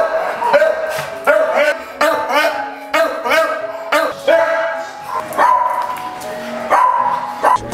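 Several dogs bark and yip repeatedly in kennels at a dogs home, loud and close, with overlapping barks coming in quick irregular bursts throughout.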